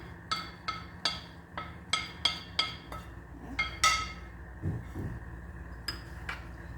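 Chopped salad vegetables for a potato salad are tossed together in a bowl. A utensil strikes the bowl in a series of sharp, glassy clinks, close and distinct, spaced unevenly over a few seconds against a quiet background.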